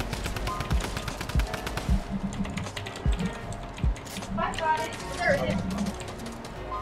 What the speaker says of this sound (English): Oh, they're shooting me down.